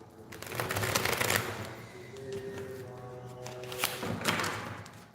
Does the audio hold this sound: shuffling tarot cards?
yes